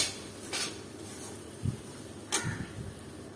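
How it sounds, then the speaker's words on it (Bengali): A spoon scrapes and clinks against a pan while turmeric spice mix is stirred into onions, a few sparse metallic knocks and scrapes over a faint sizzle, close and fairly quiet. "আমি আবারও এই মশলাটা সুন্দর করে মিক্সড করে নিচ্ছি পেঁয়াজের সাথে"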